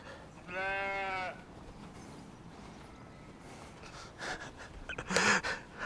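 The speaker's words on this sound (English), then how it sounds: "And the chorus of sheep." Sheep bleat in a field on the Ogmore Downs near a road, with one clear, fairly close bleat early on and fainter calls later. Outdoor ambience and a few breathy sounds fill the gaps.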